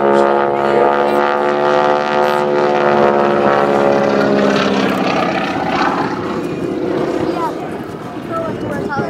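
A Boeing Stearman biplane flies aerobatics at an airshow, its radial engine droning loud and steady for several seconds, pitch shifting slightly as it rolls, with an announcer talking over the noise.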